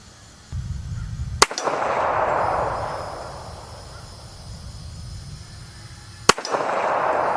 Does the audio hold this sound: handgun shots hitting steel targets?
yes